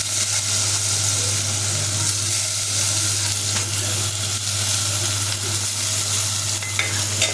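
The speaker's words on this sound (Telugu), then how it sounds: "నూనెలో వెంటనే పప్పు వేసుకోవాలి." Moong dal sizzles in hot oil with turmeric as a tempering with green chillies for a ridge gourd dal. A steady, loud, dense frying hiss runs unbroken and close throughout, with no talking.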